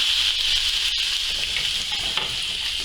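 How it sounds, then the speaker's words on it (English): Brandy hitting a hot pan of roasting woodcock bones gives a steady, loud hiss and sizzle throughout, close up and without any talk. "into our pan of roasting bones then, I'm going to drop a little bit of brandy"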